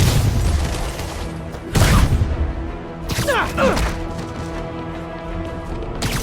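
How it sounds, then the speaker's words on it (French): Gunfire in the Marvel's Spider-Man video game: sharp, loud shots crack out at intervals over a dense bed of game action and rumble. "Attention! Je tire!"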